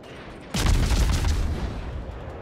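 A warship's main guns fire in the World of Warships game, a sudden heavy rumbling volley of booms that rolls and fades over about two seconds, loud and alone.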